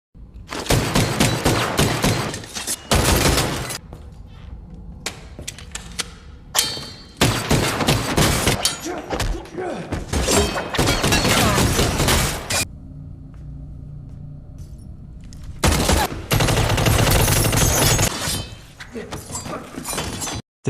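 Gunfire and crashing impacts ring out during a John Wick film fight, with loud bursts of shots and clanging hits broken by brief quieter gaps.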